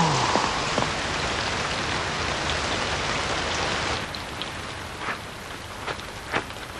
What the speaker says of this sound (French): Voilà qu'il pleut maintenant.